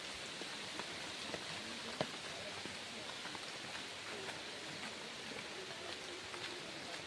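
Rain falls during a fierce storm by a river at high tide, a soft, constant patter with scattered drop ticks, faint and even throughout with no voices.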